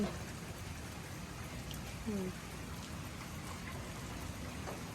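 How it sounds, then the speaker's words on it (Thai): Heavy rain falls steadily outside a house, a soft continuous patter with scattered drop hits, quiet and fairly distant, with a faint voice briefly in the background. "ไม่ได้ไปไหนนะวันนี้ฝนตกจ้า"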